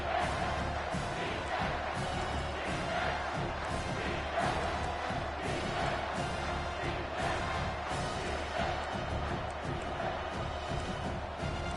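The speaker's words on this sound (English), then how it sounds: "This crowd rising up, sensing that its defense needs some help" A football stadium crowd at an Oklahoma versus Miami game roars in a dense, sustained wall of noise with scattered thumps and cheers, rising as the defense is rallied.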